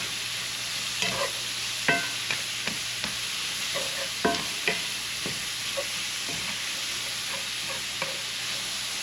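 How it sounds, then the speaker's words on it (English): A spoon scrapes and stirs across the bottom of a skillet to deglaze it, giving irregular close scrapes and taps over a soft, steady sizzle, with no talking. "we are going to give it a nice little spin and pretty much just loosen up all of that flavor that's on the bottom of this skillet"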